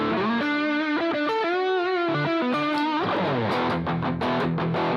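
An electric guitar played through the X Crunch amp model of a Boss GT-1000 Core rings out alone with a crunchy distorted tone, moving from sustained melodic notes into choppier chords and muted hits.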